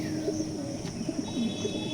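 Pigeons at a loft coo softly in a short run of low, rounded calls, with faint chirps in the background.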